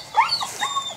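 Young puppies let out a few high, thin whimpers in quick succession, close and fairly loud, with no talking over them.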